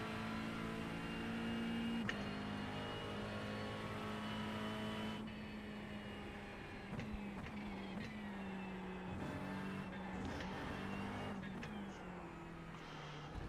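Race car engine droning steadily in a Le Mans sim racing game, a sustained tonal whine with gear shifts and faint approaching GT3 cars.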